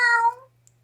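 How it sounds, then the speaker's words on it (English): A cat gives a single loud, drawn-out meow up close, fading off into near silence with a faint hum beneath. "he has not meowed like that in such a long time"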